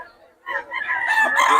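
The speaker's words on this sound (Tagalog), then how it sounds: "maraming manok to si Boss Ken" Rooster crowing once at a Bocaue flea market, a loud, close, rising call that swells and holds to the end against a quiet background.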